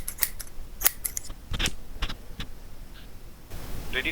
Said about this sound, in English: I've got the scissors